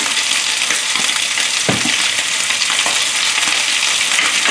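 Ginger and garlic sizzle with beef in a very hot pan for cashew beef with vegetables, a loud, dense, constant frying hiss with a few soft stirring knocks beneath it.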